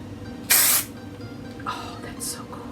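A Montana Marble spray paint can, used on an acrylic pouring piece, gives one loud, sharp hiss, then two shorter, softer bursts, all up close.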